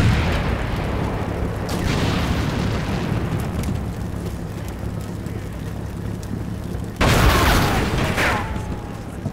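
A tank gun fires in the war game Combat Mission Black Sea: one loud, sharp boom bursts out of a steady low rumble of engines and wind, then fades with a brief crackling tail.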